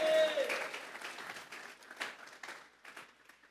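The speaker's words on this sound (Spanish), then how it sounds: "Vamos a regalarle ofrenda de palmas al Dios de la gloria" Church congregation claps in praise, a brief burst that fades fast into scattered, uneven claps, with a preacher's voice partly over the start.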